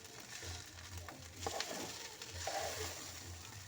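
Onion and garlic frying in a pan give a soft, steady sizzle with faint crackles and occasional stirring scrapes, quiet and close.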